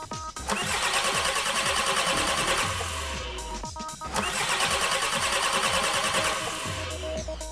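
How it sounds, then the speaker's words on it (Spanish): A TDI diesel engine cranks on its starter in two long bursts, a loud whirring churn with rhythmic compression pulses, close up, with a brief pause between attempts. "accionamos el arranque"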